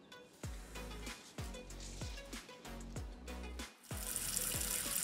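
Tap water runs into a sink while kangkong is washed under it, splashing and gurgling in uneven bursts as the leaves are moved about, close and clear, with the flow getting stronger near the end.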